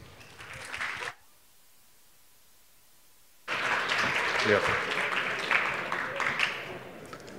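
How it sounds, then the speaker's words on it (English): An audience applauding a speaker at a talk, with a short burst of clapping at the start, a pause, then a longer, fuller round of clapping mixed with voices and a single short spoken word. "Round of applause, please."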